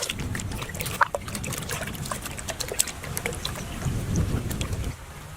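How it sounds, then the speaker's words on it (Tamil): Goat intestines are rinsed and scrubbed by hand in water, giving a continuous close sloshing and rubbing with occasional louder splashes. "சுடுதண்ணிகளை போட்டு பச்சை தண்ணியில போட்டு தேய்ச்சோம்னா குடல் சுத்தமா வந்துடும்"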